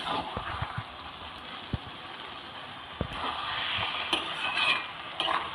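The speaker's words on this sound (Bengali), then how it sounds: "বাঁধাকপিটা ভালো করে নাড়তে হবে।" A spatula scrapes and stirs cabbage frying in a pan for a Bengali vegetarian curry, giving scattered clacks and scrapes over a soft background hiss of cooking, fairly quiet with no talking.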